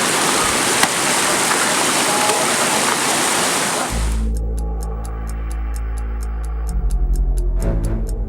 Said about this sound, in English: you can see the water cascading down